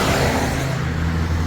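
Cars rumble and rev past on a busy street beside the Old City walls of Jerusalem, near Jericho Road and the Lion Gate. Loud, close and continuous, with no voices.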